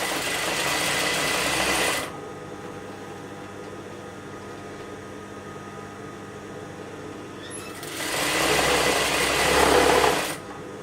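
A sewing machine runs in two steady whirring bursts while stitching elastic sandwiched in a trouser fold, with a quieter gap between them and no talking.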